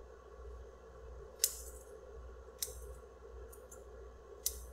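Grooming scissors snip the end of a Standard Poodle's tail hair: four sharp, quiet metallic cuts spaced a second or more apart over a faint background hum.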